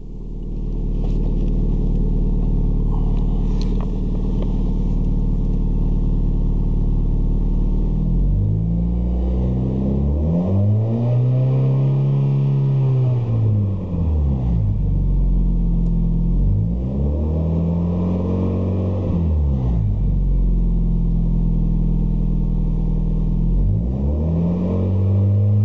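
A car engine idles with a low rumble, then is revved several times with the gas pedal, each rise and fall in pitch clearly audible and close, with no talking.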